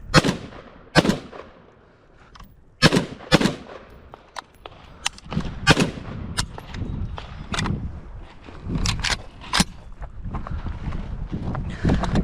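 Several sharp gunshots from an AK-style short-barrelled Krink rifle at an outdoor range, loud single cracks and close pairs spread irregularly, with a steady background rumble between them.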